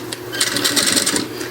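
A sewing machine stitches through plastic with a teflon presser foot, giving a brief, fast, steady mechanical whirring and clicking close by, with no talk.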